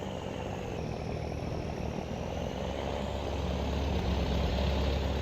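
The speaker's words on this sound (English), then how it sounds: "Yep, tractor's still running here." A farm tractor's engine runs steadily during a corn harvest, a loud continuous low rumble with a broad droning hum that holds constant and swells slightly toward the end, with no talking.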